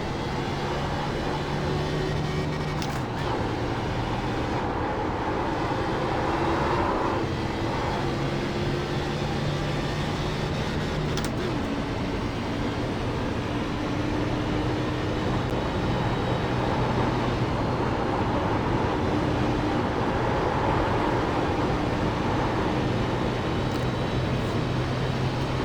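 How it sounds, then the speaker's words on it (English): Car tires roaring and humming on an oval track in the iRacing simulator after a spin-out, a steady continuous drone louder than the engine, sustained at even level throughout with no voices. "The tires are a lot louder than the engine now."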